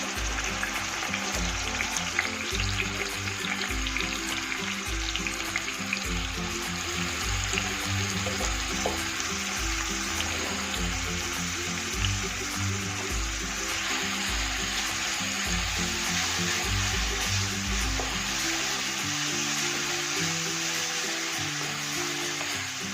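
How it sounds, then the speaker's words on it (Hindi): Onions sizzle in hot oil in a home kitchen pan, a steady crackling fry throughout with a low hum underneath and no talk. "अब यहाँ डाल दूंगी प्याज।"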